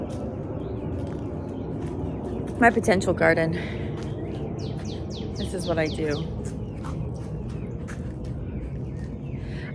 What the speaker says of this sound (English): So it's early morning. You can hear the birds singing.